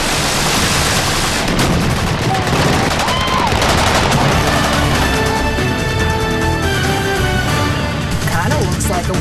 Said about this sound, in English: these are just regular folks shooting some high-power guns here in Arizona